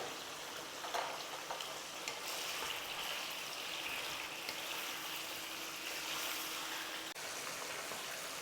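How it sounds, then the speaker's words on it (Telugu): Chicken fries with turmeric over a high flame, giving a soft, steady sizzle with a light bubbling wash and an occasional faint clink. "హై ఫ్లేమ్ మీదే 2 నిమిషాలు వేయించుకోవాలి."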